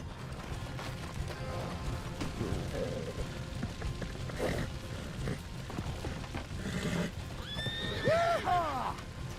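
Horses in the Red Dead Redemption 2 video game whinnying and neighing in the rain, with loud rising calls near the end over a dense bed of rain, hoofbeats and commotion, and a voice talking briefly.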